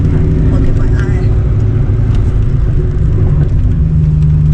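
Cars at a Toronto Foxbody Club meet give off a loud, continuous, close engine rumble with some revving, and voices talk over the noise.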